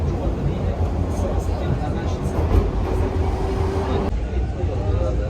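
Subway train slowing as it nears Dufferin Station, a steady close rumble of the moving car with a faint brake tone, then a drop in the higher hiss near the end; voices talk over it.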